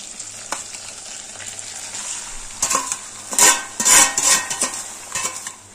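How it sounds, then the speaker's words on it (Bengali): Boiled, drained taro leaves fry in a pan over a high gas flame while a spatula stirs them, giving steady close sizzling punctuated by loud scraping and clattering strokes in the second half. "এবার গ্যাসের ফ্লেমটা হাইতে করে দিয়ে খুন্তি দিয়ে আস্তে আস্তে নেড়ে চেড়ে কচু শাকটা কষিয়ে নেব"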